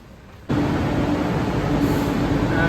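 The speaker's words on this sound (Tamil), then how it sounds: "இது வந்து அந்த 3ஆவது பிளாட்ஃபார்மில் நிற்கிற இப்போ வந்த ட்ரெயின்" A Chennai Metro train reaches the platform. A loud, broad rushing rumble of the train cuts in abruptly and holds steadily close by, with no talking over it.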